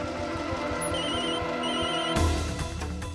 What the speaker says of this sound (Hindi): अरे ये फोन किसका है?